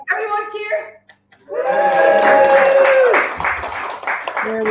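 School students at a county final of a student enterprise programme cheer and whoop in a burst of excited voices, with clapping mixed in. A near, loud crowd swells after a brief pause, and sustained tonal shouts ring over the clapping.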